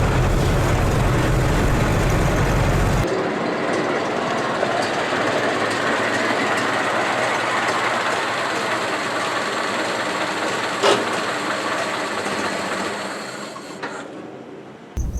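A 1918 Ford Model T truck hauls a load in its auxiliary transmission, its engine and drivetrain giving a steady rumbling, rattling drone that fades slightly toward the end, with no talk.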